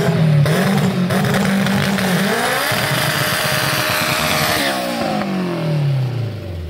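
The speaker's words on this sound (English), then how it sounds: "Gave it the man burnout." A 650 horsepower stock K-Series Honda-engined drag car doing a burnout, a loud sustained engine roar with rising and falling pitch and tire squeal, and the note sweeping downward near the end.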